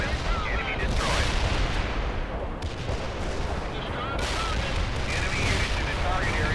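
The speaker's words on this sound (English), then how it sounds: "Coordinates locked down. Shells on the way." Artillery shells burst in World in Conflict as a dense, continuous barrage, with heavy booming impacts and crackling blasts rolling over one another at loud, constant volume throughout.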